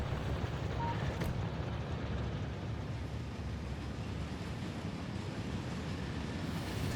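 A train ride in the Factorio video game gives a steady, loud low rumble with a constant hiss that carries on evenly throughout, with no talk.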